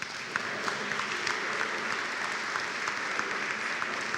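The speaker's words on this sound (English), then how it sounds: "Please, a round of applause." An audience at a business forum session applauds steadily and evenly for the full stretch, a dense wash of clapping with no voices breaking through.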